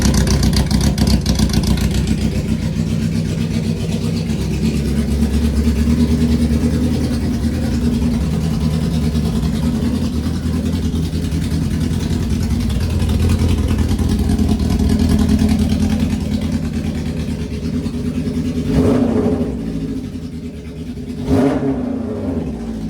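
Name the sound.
motorcycle engine starting and revving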